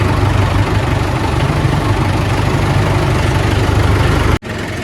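A vehicle engine idles steadily while backing out of a crowded spot near a brick kiln, a loud, close, even rumble that drops abruptly near the end before settling again.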